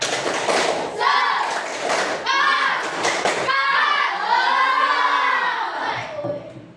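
Children in a classroom call out a rhythmic clapping chant together, their voices loud and close and mixed with quick claps, with a teacher leading the group.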